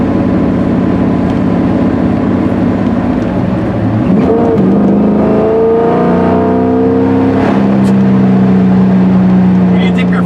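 An LS-swapped Porsche 944 drives hard, its V8 exhaust droning loud and close, pitch climbing through the revs, dropping on a shift and climbing again, with faint crackles on the gear changes.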